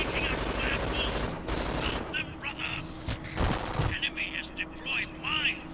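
Hip-fired automatic gunshots in the shooter Brink rattle in quick bursts amid battle noise, with someone talking over the firing.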